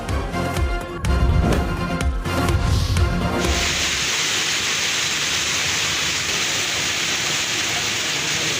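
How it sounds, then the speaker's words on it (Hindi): Heavy stormy rain driven by strong wind in Lahore, a loud continuous hiss and roar that fills the whole stretch, rougher and gustier at first, then settling into an even wash. "तूफानी किस्म की इस वक्त तेज हवा चल रही है, बारिश भी हो रही है।"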